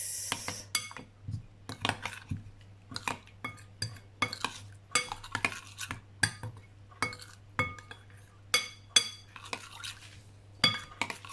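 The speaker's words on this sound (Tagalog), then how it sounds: "Haluin lang natin ng konti mga kaatak para siya ay mag-mix." Spoon stirring chicken marinade with black pepper in a bowl, a quiet series of quick clinks and scrapes repeating in an uneven rhythm, close and fairly soft, with no talk.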